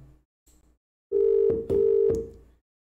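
An outgoing call tone plays in the Element chat client on a Debian 11 Matrix Synapse setup. It is a steady electronic tone in two long pulses with clicks at the transitions, clear and close after a brief quiet start.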